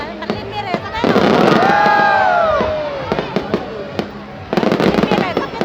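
A fireworks display in Hai Duong, Vietnam, with rapid crackling bursts, whistling shells and a murmuring crowd nearby, while people chat close by over the bangs.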